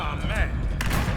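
Gunfire in the Halo video game rattles out in a short, loud burst of shots, heard close up amid voices.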